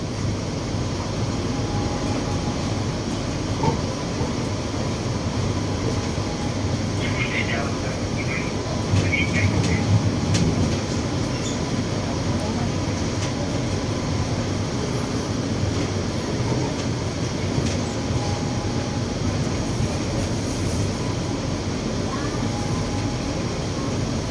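Steady rumble and whine inside a Bangkok MRT Yellow Line monorail train running between stations, a continuous loud cabin drone with faint chimes, and a voice talking over it.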